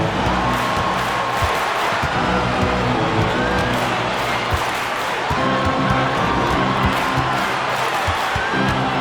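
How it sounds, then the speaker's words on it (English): A large crowd in the basketball video game NBA 2K25 roars and cheers in a steady, dense wash of noise, with a loud arena atmosphere sustained throughout and faint commentary-like voices underneath. "That shot eliciting a roar from this gigantic crowd."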